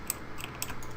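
Light computer mouse or key clicks while playing Minecraft, a few quick faint taps close by in a quiet room.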